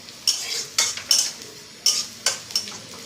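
Saag greens fry in a pan and are stirred with a utensil: about six sharp, close scraping strokes at an uneven pace over a faint sizzle, with no talking.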